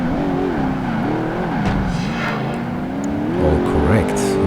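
Race cars in the Project Gotham Racing 2 video game, with a Lotus Esprit and Ferrari 575 Maranello on track: a loud continuous engine whine wavering in pitch as the cars accelerate and shift, with tire noise, under steady game audio.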